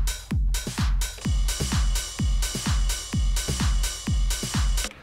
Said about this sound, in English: what you're hearing now is drums coming from the Octatrack Mark II